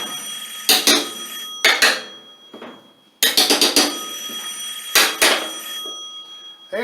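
A telephone rings in a garage workshop during a Craftsman LT2000 lawn tractor deck rebuild, sounding as repeated bursts of bright trilling rings in short groups with brief pauses between them, clear and fairly close.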